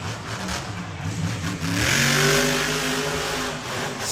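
A monster truck engine roars and revs up as the truck slides sideways through mud at a Miami, Oklahoma show, the pitch rising into a loud sustained whine before easing slightly.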